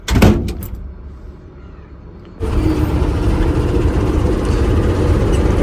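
A loaded truck in third gear shifts gear on the descent near the Thoppur ghat, with a few sharp clunks, then a lull before the engine drone returns loud and steady, close by.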